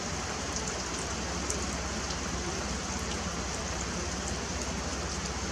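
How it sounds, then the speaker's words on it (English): Steady rain falls in a dense, even hiss, with constant patter on surfaces and no letup. Nothing else stands out over it. "With this rain."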